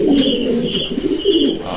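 A stockbreeder pigeon, the father bird, coos in a steady, close, fairly loud rolling call that carries alone, with no talk over it.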